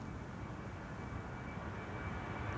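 A KLM airliner takes off from Schiphol's Kaagbaan, runway 24, producing a steady, broad engine roar that holds at an even level throughout, with no voices.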